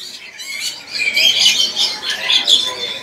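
Japanese munias chirp in a bird dealer's stock, a rapid series of thin, high squeaky calls close by, steady and busy across the few seconds.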